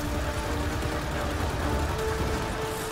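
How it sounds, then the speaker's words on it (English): Assault rifle fire in the video game Mass Effect Andromeda comes as a steady patter of shots under a busy background din, moderately loud and unbroken for a few seconds. "I'll post up behind cover and lay down fire with my assault rifle while my shields recharge."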